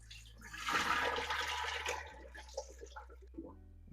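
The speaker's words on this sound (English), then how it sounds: "Want to make sure that we're gonna give them a nice, good, clean rinse." Tap water pours over fresh shrimp in a sink. A strong gush of flow eases into lighter splashes and drips, with a low hum underneath and no voices.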